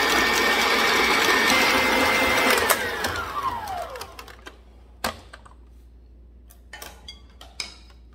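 An electric mixer beats lemon butter cake batter with a loud, steady whir, then winds down and stops, followed by a few sharp clicks and knocks.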